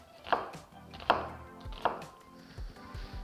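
A kitchen knife slices an onion into long julienne strips on a cutting board, three sharp, close chops at steady intervals followed by softer scraping taps, with no talking.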